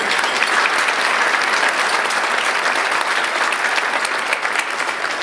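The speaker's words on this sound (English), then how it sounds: "So I want to give them a round of applause" At a Regina & District Chamber of Commerce year-in-review with the mayor, a large audience claps continuously in a dense, even, loud wash of applause.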